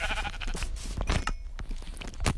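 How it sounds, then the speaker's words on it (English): Sheep in the Minecraft video game bleat in a few short, wavering calls, loud and close, mixed with crunching game sound effects and brief thumps. "Sheep."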